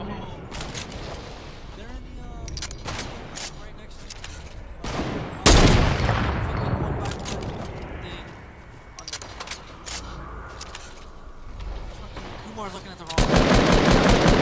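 Gunfire rattles through a match of the video game Fortnite, with rapid automatic bursts and heavy single shots, loud and close, mixed with players talking over the action.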